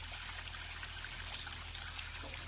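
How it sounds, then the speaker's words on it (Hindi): Water trickles and splashes steadily as it is collected from a jungle stream, a soft continuous gurgle with no voices. "पहले हम पानी भर लेते हैं।"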